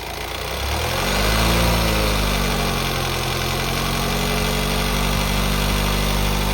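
A 2019 Honda WR-V 1.5-litre diesel engine idles steadily nearby, a low rumbling drone with a slight rise in revs near the start, then holding even.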